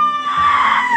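Children scream shrilly and loudly at close range while muffled under blankets at bedtime, a sustained high-pitched shriek that runs for the whole second.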